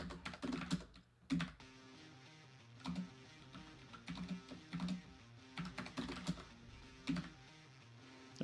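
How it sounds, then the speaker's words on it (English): Typing on a computer keyboard: irregular clusters of sharp key clicks and clacks, close and fairly quiet, with short pauses between bursts and no talking. "I can't hit a key without hitting another key. The keyboard's just okay."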